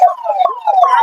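An ambulance siren in a traffic jam in front of the Lasudia police station wails loud and close, a continuous wavering electronic tone with no talk over it.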